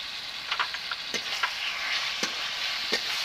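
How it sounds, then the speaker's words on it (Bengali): Chicken pieces frying with spices and salt after tomato, stirred in a pan; a steady close sizzle carries a few scrapes and taps from the spatula, with no voices. "এখন নাড়াচাড়া করে ভালোভাবে কষিয়ে নেব মাংসকে মশলা সাথে"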